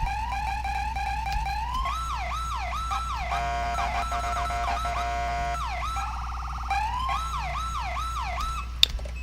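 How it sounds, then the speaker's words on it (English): A California Highway Patrol police siren in GTA IV wails continuously, switching between a rising-falling wail and a rapid yelp, loud and steady over a low engine rumble. "Man, I love that authentic CHP siren."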